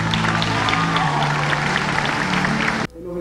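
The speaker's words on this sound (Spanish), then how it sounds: "¡Fuerte aplauso para ella!" Dense audience applause on a live telethon broadcast, a steady wash of many clapping hands with a little cheering mixed in, loud and sustained before cutting off abruptly near the end.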